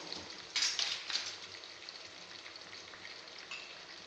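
Cabbage with salt frying in a pan, producing a steady, fairly quiet crackling sizzle with a louder burst early on, close by and without speech.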